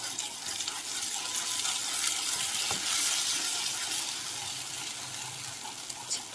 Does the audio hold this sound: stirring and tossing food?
yes